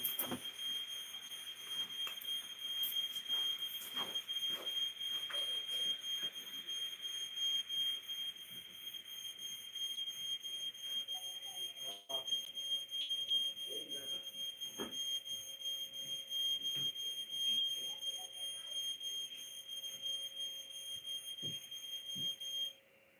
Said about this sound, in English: It's just the alarm.